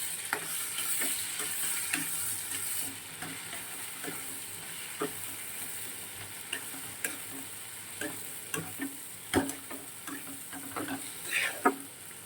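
Spices with turmeric and chili powder sautéing in a pan, a soft steady sizzle under repeated light clicks and scrapes of stirring, fairly quiet throughout.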